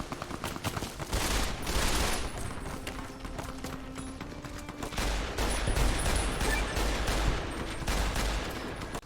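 Modded weapon fire in Fallout: New Vegas, with heavier, weightier gunshots sounding as a steady loud volley of repeated shots and impacts throughout.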